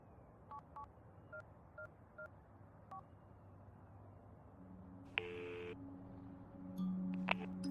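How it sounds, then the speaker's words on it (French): A telephone number is dialed as a quick string of touch-tone beeps. A ringback tone then sounds in the quiet line. "Je vais essayer de l'appeler."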